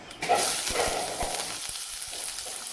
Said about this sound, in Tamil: சேர்த்துட்டு நல்லா கிண்டி விடுங்க வெங்காயம் நல்லா வேகட்டும்